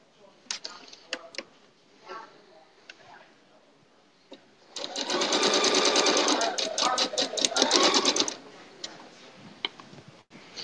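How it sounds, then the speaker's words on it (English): Sparse clicks and soft handling sounds, then a sewing machine sews a quilt seam in a fast, steady mechanical rattle for several seconds before stopping. "let's bring this over to the sewing machine and sew this final seam"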